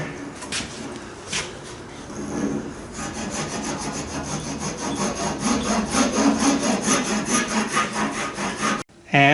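Repeated scraping strokes of a rasp across wooden boat spars, rough and rhythmic, growing steadier and louder toward the end.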